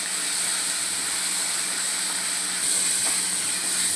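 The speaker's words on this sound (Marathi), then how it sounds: "टमॅटो पण चांगला आपल्याला शिजवून घ्यायचा आहे तेलावरती।" Tomatoes and onion frying in oil in a pan, a dense, steady, bright sizzle that stays even and continuous throughout, close up and fairly loud with no voices.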